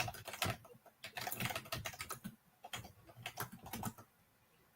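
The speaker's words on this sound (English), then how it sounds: "Can you hear me typing?" Someone types on a computer keyboard in quick bursts of close key clicks separated by short pauses.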